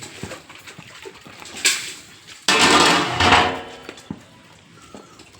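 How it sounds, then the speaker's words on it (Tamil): Chicken gravy stirred in a cooking pot: scraping, clattering spoon-against-metal strokes, louder in a burst midway, with dull knocks and faint kitchen background, no talk. "அது கிண்டி விடுறது"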